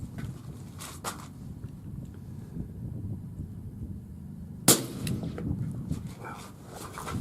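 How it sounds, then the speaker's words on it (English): A suppressed Smith & Wesson M&P 9 pistol fires supersonic ammunition through a Griffin Armaments Optimus suppressor: a single sharp, loud report midway, standing out against a quiet outdoor background. "now we're going to go Smith & Wesson M&P 9 supersonic with"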